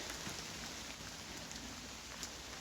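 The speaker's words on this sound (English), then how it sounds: "the sound of rain falling anywhere is wonderful, isn't it?" Steady rain falling outdoors along a walking route, a continuous dense hiss of drops close by with no voices over it.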